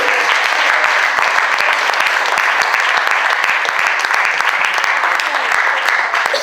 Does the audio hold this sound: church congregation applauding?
yes